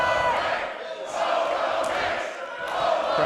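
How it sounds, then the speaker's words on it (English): A wrestling crowd at the El Rey Theater roars and cheers in a sustained wave of whoops and shouts, filling the hall continuously. "Crowd getting behind Hobo Hank."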